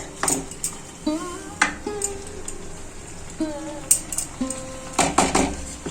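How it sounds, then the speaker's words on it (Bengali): A metal lid is lifted off a pot of boiling banana flower, giving several clanks and ringing metallic knocks, close and fairly loud, with faint scraping in between. "ঢাকাটা খুলে দেব"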